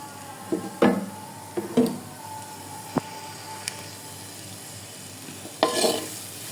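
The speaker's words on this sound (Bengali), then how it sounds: "নাড়াচাড়া করতে থাকবো এবং এটা একটু ভাজা ভাজা হয়ে নেই। পেঁয়াজ আর রসুনটা একটু ভাজা ভাজা না হলে ভালো লাগবে না।" Onion and garlic fry quietly in a pan under a steady low sizzle, with a few sharp scraping strokes of a spoon stirring them at intervals.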